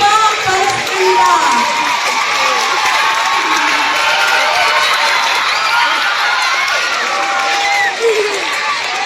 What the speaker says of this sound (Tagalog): Matigapong palakpak para sa kanila.